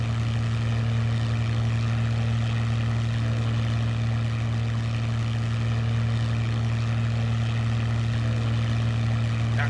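P-40B propeller fighter in flight in Microsoft Flight Simulator 2020, a steady loud engine drone with a strong low hum and constant propeller buzz, unbroken for the whole stretch with no talk.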